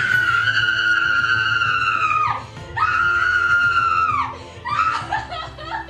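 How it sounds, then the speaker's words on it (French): A person screaming at full voice during an acting class exercise in Paris, two long loud sustained screams that fall off at the end, then a shorter broken cry with laughter-like breaks. "Lâche-la et crie."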